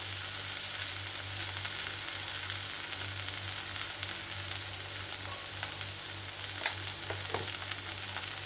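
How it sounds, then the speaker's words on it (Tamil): Green chillies and onion sautéing in a pan for a greens thokku, a steady close frying sizzle running throughout with a low continuous hum beneath and a few faint crackles, no talking. "பச்சை மிளகா நம்ம நல்லா வதக்கி எடுத்துடலாம்"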